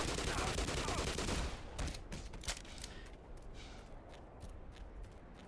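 Tau cannon fired in the video game Black Mesa: a dense, loud burst of crackling energy discharge, then several sharp, separate shots ringing out over a fading mechanical hum.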